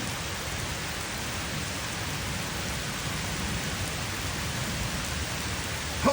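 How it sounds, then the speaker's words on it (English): Steady, even hiss of gentle rain falling during a night thunderstorm in Indianapolis, a continuous broadband wash with no distinct thunder claps standing out. "There you can see the gentle rain falling."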